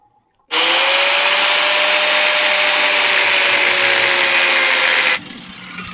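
A high-revving power tool cuts into a part for a Nitro scooter fork, a loud steady whine held for about five seconds before abruptly stopping, close up with no talking.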